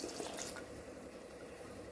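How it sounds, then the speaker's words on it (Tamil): Tamarind water is poured into a clay pot of Koduva fish curry, making a steady, soft, continuous liquid pour up close with no voices. "இப்போ கரைச்சி வச்சுருக்கிற புளியை அது உள்ளே ஊற்றிக்கலாம்"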